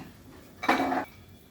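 Fried lentil bori lifted out of a pan, giving a short burst of clinking utensil-on-pan scraping lasting under half a second, close and moderately loud, with quiet kitchen background before and after.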